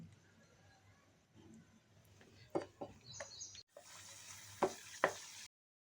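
Flattened rice (poha) and other laddu ingredients fry lightly in ghee in a pan, a soft sizzle with scattered clicks of stirring, quiet at first, then a brighter hiss in the later seconds before it cuts off.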